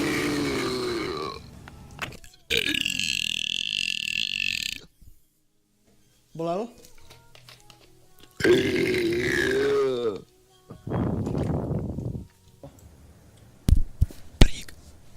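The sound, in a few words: burping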